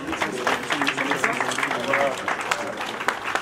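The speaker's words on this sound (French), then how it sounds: "Merci d'applaudir ce moment mémorable." Audience applause at a ceremony for a national promotion days event for small businesses and crafts, a steady patter of clapping filling the clip at moderate level with talk mixed in.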